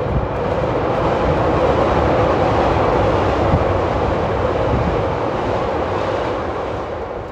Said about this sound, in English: I'm gonna wait for the train.